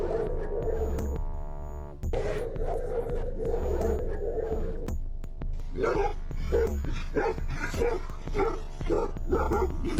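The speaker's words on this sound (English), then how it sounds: "As the 2 dogs moved closer and barked even more aggressively" Two Tibetan Mastiffs bark aggressively, first in long sustained howling barks, then in a quick run of sharp repeated barks. The dogs are loud and close over a low background hum.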